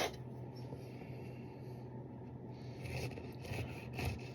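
A small knife slicing through a crisp, airy, hollow cream puff, a quiet scratchy scraping and crunching close by, growing a little louder toward the end.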